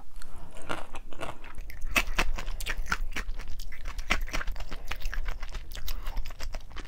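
Someone eating mala xiang guo, a spicy Sichuan stir-fried dish, making close, steady crunching bites and chewing sounds throughout, with no talking.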